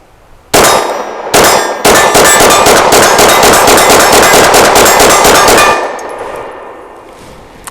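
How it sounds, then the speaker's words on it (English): Rapid pistol fire from a BUL Armory Axe FS Cleaver outdoors, a couple of opening shots then a fast continuous string, loud and ringing with steel target clangs before tailing off. "I'm going to try to shoot quickly while ideally still hitting the steel down there"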